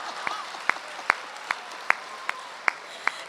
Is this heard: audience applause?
yes